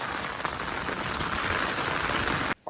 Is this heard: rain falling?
yes